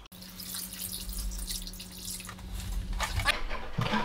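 Liquid fuel pours steadily into a 5 litre fuel canister, a continuous close splashing and gurgling stream that grows slightly fuller toward the end, with no talking.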